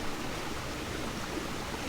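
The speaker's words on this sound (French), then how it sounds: "c'est le petit ruisseau qui est là." A small stream near Lac à l'Ours in Mont Tremblant National Park, Quebec, burbles and rushes in a steady, even wash of water sound, continuous and fairly close, with nothing else standing out.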